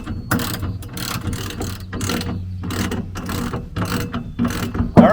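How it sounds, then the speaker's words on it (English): A ratchet wrench with a 13mm socket tightening 70mm bolts on an integral truck rail system fitted to a Dodge Ram 2500/3500 short box, giving repeated close clicking strokes in a steady rhythm with short pauses between pulls. "it's time to tighten up the 70mm bolts with a 13mm socket"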